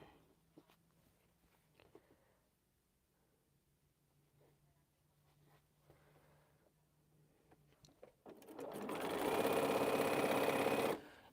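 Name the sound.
sewing machine stitching a quilt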